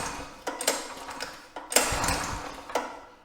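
An old go-kart engine being pulled over by hand, with a few separate bursts of cranking and mechanical clatter spaced through a quiet garage, nearby and moderately loud.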